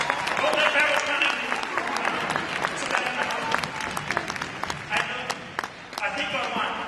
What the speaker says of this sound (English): The crowd normally goes wild.